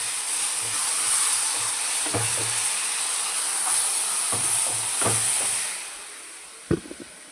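Semolina roasted golden brown and moong dal stirred together in a pan for a sweet, with a steady steamy hiss and occasional soft scrapes and taps of the spoon.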